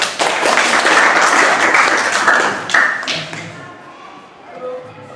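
A classroom group claps after a presentation during a teaching assessment, with dense overlapping claps and taps for about three seconds that then stop abruptly, leaving a quiet room with faint voices.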